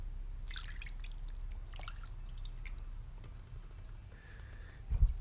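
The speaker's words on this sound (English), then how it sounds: "Now we're going to add our marinade to the fish," Adobo marinade is poured over a milkfish (bangus) fillet, with a quick run of wet drips and splatters followed by softer trickling, close and fairly quiet.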